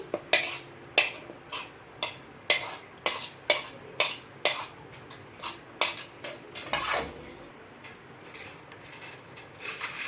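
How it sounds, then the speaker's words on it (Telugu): Sautéed onions and tomatoes scraped into a vessel for toor dal chutney, a quick run of sharp metallic spoon clanks against the pot that thins out toward the end, with no talking. "ఇంకా మగ్గించుకున్న ఆనియన్స్ టమాటో అయితే వేస్తున్నాను ఇందులోకి"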